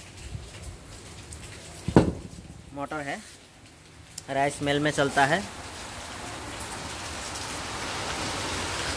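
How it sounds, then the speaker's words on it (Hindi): Rain falls steadily as a soft hiss during rainy-season weather, with a sharp knock early and someone speaking briefly over it. "तो बारिश के मौसम पे आया है, हमारा यहाँ पे बारिश गिर रहा है।"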